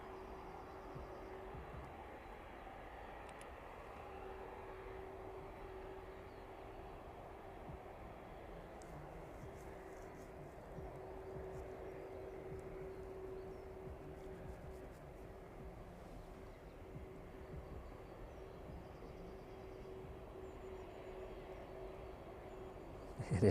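A Ryanair jet rumbles faintly in the distance at East Midlands Airport evening, a low, steady drone with a thin hum riding over quiet ambient noise, rising slightly at the very end.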